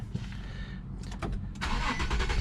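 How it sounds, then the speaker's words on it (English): A 2015 Infiniti QX70 is started by push button: a faint chime, then the starter cranks in quick bursts and the engine catches and settles into a steady idle, heard from inside the car with no talking. "Foot on brake, it'll start the car, right?"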